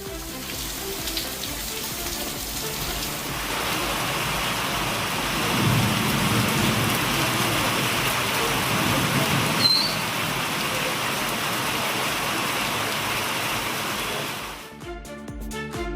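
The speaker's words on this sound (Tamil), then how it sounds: "உள்ளிட்ட பகுதிகளில் பரவலாக மழை பெய்தது" Heavy rain pouring steadily in a dense continuous hiss, with low rolls of thunder rumbling beneath it, before it cuts off near the end.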